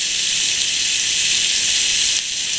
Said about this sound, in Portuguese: você vai refogar uma cebola inteira junto com o bacon